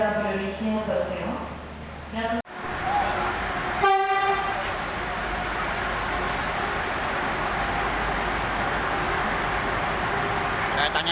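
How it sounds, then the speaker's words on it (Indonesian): The Jayabaya passenger train from Jakarta pulls into an Indonesian station with a loud blast of its horn, then a long, steady rumble and rattle of cars rolling past close by, after an announcement over a public address system. "Kereta api Jayabaya dari Jakarta ini"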